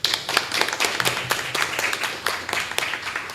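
Applause at an awards ceremony for a national public procurement arbitration essay contest, a dense patter of many hands clapping fairly close, steady for a few seconds with only faint voices.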